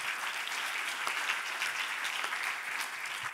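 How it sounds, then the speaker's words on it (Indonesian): Congregation applauding at a church worship service, a steady, dense wash of many hands clapping throughout, fairly distant and even with no voices on top. "Dengan tepuk tangan yang meriah bagi kita."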